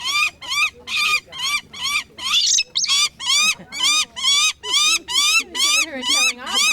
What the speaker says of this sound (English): This bird is calling out not because it's in pain for any reason. It's trying to intimidate me.